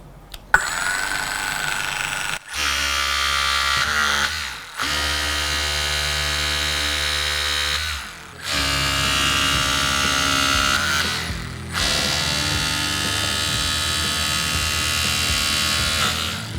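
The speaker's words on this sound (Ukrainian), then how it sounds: "Комбінований акумуляторний інструмент Weber Rescue SPS 270 mk 2 e force 3" A Weber Rescue SPS 270 MK2 E-FORCE3 cordless combination rescue tool runs with a loud, steady electric motor whine in several long bursts, each pausing briefly before starting again with a shifting pitch.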